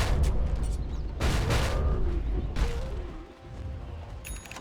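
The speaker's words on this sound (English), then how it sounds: "Satisfying sounds thudding the Earth Shaker" Heavy ground-slamming thuds from Earthshaker in a Dota 2 match at The International 10, deep booming impacts landing in a few separate bursts over a low rumbling game backdrop, loud and without talk.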